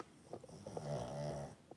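A pug dog snoring softly nearby, a few short snuffling breaths followed by one drawn-out, buzzy snore, then quiet.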